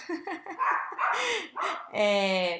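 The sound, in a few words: dog barking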